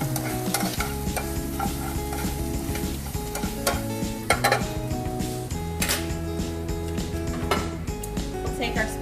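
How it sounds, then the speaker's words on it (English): Garlic sautés in rendered bacon fat in a pan while making spaghetti carbonara, a steady close sizzle broken by stirring scrapes and clinks of a utensil against the pan, with a few sharper clatters of kitchenware. "we'll add in our garlic. We want to saute that up until fragrant."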